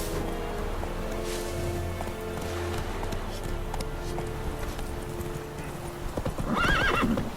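A horse in The Witcher 3 game clip-clops along at a steady trot, then lets out a loud whinny near the end, with low ambient game sound underneath and no talk.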